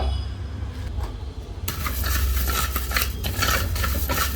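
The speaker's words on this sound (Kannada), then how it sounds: "ಮೊದಲಿಗೆ 2 ದೊಡ್ಡ ಚಮಚದಷ್ಟು ಧನಿಯಾ ಕಾಳನ್ನು ಹುರ್ಕೊಳ್ಳೋಣ. ಕಪ್ಪಾಗಿ ಹುರ್ಕೋಬೇಕು." Coriander seeds dry-roasting in a clay pot for a Coorg pork black masala, stirred with a spoon: a near, steady scraping rustle that grows louder and busier after the first second and a half.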